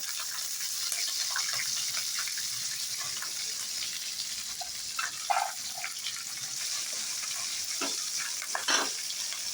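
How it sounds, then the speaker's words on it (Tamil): Mustard seeds and garlic fry in hot oil for a spinach dish, a continuous crackling sizzle broken by a few louder stirring clatters and pops, close by and without talk. "கடுகு பிடிச்சிருச்சுங்க இப்போ போட்டு வதக்குங்க அடுத்து பூண்டு போட்டுக்குங்க"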